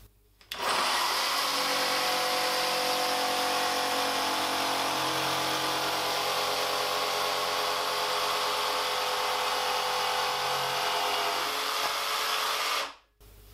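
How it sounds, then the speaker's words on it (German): A jigsaw cuts through a workpiece with a loud, continuous buzzing whine that holds steady for about twelve seconds, then stops abruptly. "Ich säge jetzt also mal weiter, bis dieses Teil hier komplett abgesägt ist."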